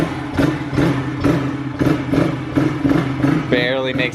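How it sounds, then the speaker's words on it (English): A small pit bike engine fitted with a new exhaust runs close by with a steady, fast puttering beat and light clatter, thin and moped-like, with a brief higher whine near the end. "now it sounds like a little moped, a little scooter"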